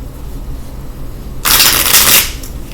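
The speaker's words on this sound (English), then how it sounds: "I'm going to go ahead and shuffle 7 times" Tarot cards being shuffled, a brief loud riffling burst in the middle of a quiet room hum, close to the listener.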